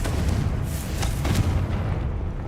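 A Confringo explosion spell blasts in the video game Hogwarts Legacy, a loud, sustained rumbling boom with a few sharper bursts around it, filling the whole moment without any talk.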